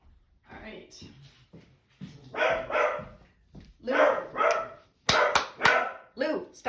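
Pet dog going wild indoors at a passing dog, with a run of loud, close barks in uneven bursts that grow sharper toward the end.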